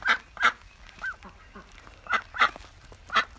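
Ducks calling near a keeper: a series of loud, nasal quacks and honks in irregular bursts, about eight calls over a few seconds, close up with no talk.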